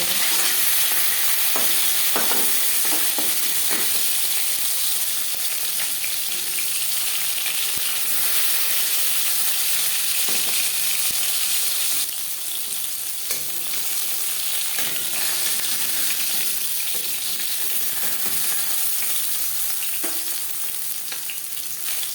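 Bhetki fish fillets sizzle in hot oil in a pan, a continuous loud frying hiss with occasional scrapes and stirring clinks throughout.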